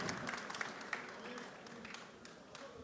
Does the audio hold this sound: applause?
yes